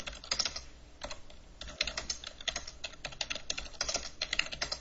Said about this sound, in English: Let's see if I can type here.